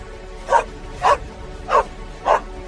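A dog barks four times in short, evenly spaced yaps over a quiet background, clear and fairly close.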